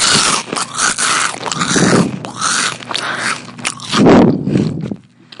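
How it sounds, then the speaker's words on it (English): Loud, close crunching and biting of a chip, with several sharp crisp bites and chewing bursts over about five seconds, ending abruptly. "ASMR chip time."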